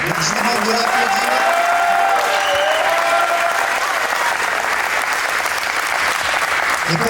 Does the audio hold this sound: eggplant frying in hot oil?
no